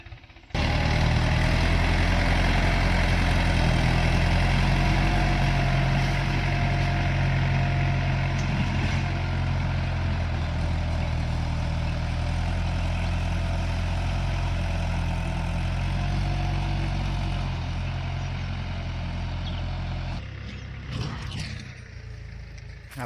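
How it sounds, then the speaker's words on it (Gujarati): A tractor works a farm field forming ridges for a first cucumber planting, its heavy diesel engine droning loud and steady throughout, easing slightly near the end with a few clanks. "અત્યારે ટ્રેક્ટરથી કામ ચાલુ છે પાળિયા કાઢવાનું."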